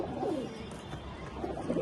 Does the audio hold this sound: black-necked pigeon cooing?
yes